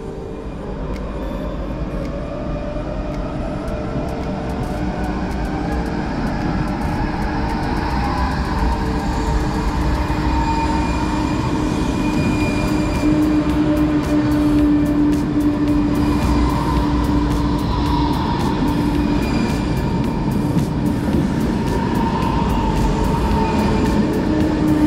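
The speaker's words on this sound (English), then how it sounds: "Now let's watch our Pendolino train depart on its remaining 4-hour 30-minute journey to Košice in" A Pendolino express train pulls out of a station in the Czech Republic bound for Košice, Slovakia, its steady rumble and electric whine building continuously throughout, loud and close with no talk.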